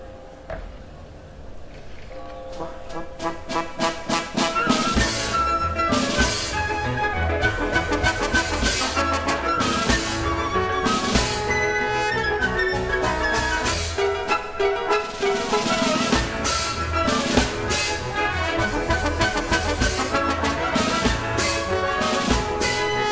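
A brass ensemble plays lively hunting horn calls in polka rhythm at an outdoor classical concert by a town hall, loud and continuous with bright sustained chords and steady accompaniment, no talking.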